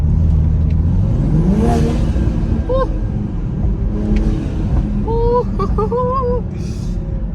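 A Toyota Supra MK5 turbo engine fitted with a CTS intake revs up and down loudly and close, with rising whines and turbo whistle over a heavy engine drone, and a voice talks in between.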